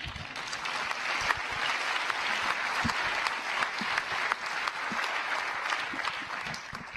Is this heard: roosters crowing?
no